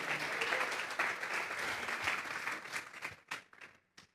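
A church congregation claps in praise offered to God, a dense burst of applause that runs steadily before thinning into scattered, separate claps and fading out.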